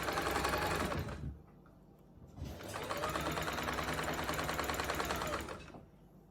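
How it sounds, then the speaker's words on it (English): A sewing machine stitches through three layers of upcycled roll-neck T-shirt fabric for a skirt, running in two fast, loud, close bursts of whirring needle action separated by a brief pause. "let's get started on the sewing."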